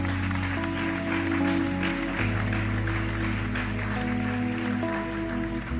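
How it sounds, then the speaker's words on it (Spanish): A church congregation applauds the Lord during a sermon, the clapping blending under steady keyboard or organ chords that carry on throughout. "Dale un aplauso fuerte al Señor"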